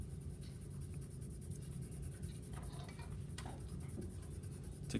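A pencil shades across paper, a faint, steady scratchy rustle with occasional light strokes, close up and uninterrupted by voices.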